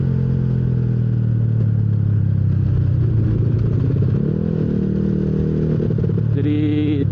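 Jupiter MX 155 bore-up motorcycle engine running on a dyno, a loud, continuous close-up drone that rises and shifts pitch mid-way, then changes tone near the end with added rattle.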